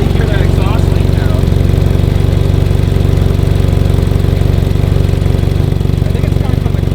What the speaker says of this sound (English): you can really hear that exhaust leak now